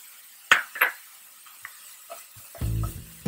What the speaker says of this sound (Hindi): सभी इंग्रेडिएंट्स को हम अच्छे से चलाएंगे।